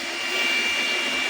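A handheld mini fan running at its top speed 3 gives a steady, close whooshing whir of airflow with a faint high motor whine, continuous and even throughout.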